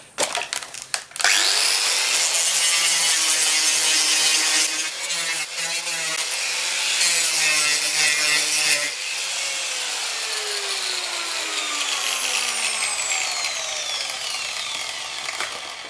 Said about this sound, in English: simply use a wire brush. Or a grinding wheel on an angle grinder.